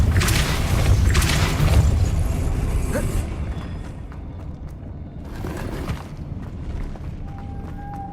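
A Depulso force spell in Hogwarts Legacy lands as a loud, deep booming impact at the start, then fades into a quieter rumble with a second softer burst later.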